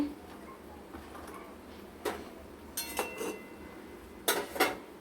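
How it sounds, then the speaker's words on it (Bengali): Metal clinks and clatters of a pot lid lifted from a pan of steamed giant freshwater prawns: several sharp, close knocks spaced over a few seconds against a quiet kitchen background. "এবার আমরা ঢাকনা খুলে দেখব, প্রায় হয়ে এসছে।"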